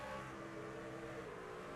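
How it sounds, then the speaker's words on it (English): Race truck engine revving in the iRacing sim at Nashville Fairgrounds, a steady loud mid-pitched drone holding for about two seconds with no pauses. "Oh, nice engine."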